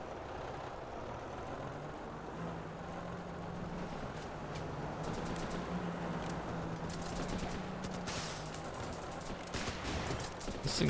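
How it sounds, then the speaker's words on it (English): Running With Rifles video game gunfire, repeated sharp cracks and bursts scattered over a steady vehicle engine drone, fairly faint and distant, with a denser cluster of shots near the end. "Gunshots fired near ranch."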